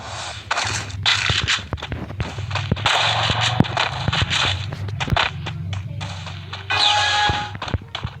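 Rapid bursts of video game gunfire crackle over a busy backdrop of shots and thuds, steady and close throughout, with no clear speech.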